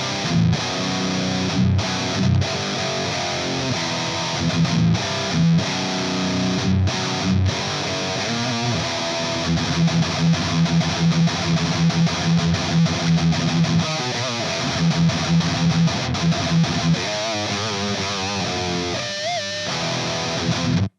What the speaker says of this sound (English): Let's check out the brand new Universal Audio Ante 1992 Guitar Amp